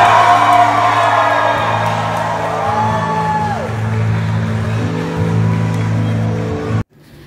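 Wedding guests cheer and whoop loudly after the groom kisses the bride at the Filipino wedding of EA Guzman and Shaira Diaz. The crowd noise is sustained and close for about seven seconds, then cuts off abruptly.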